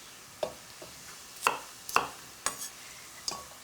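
Garlic and chilli being roughly chopped with a knife for a curry paste: about six sharp, close knocks spaced irregularly over a few seconds, with no talking.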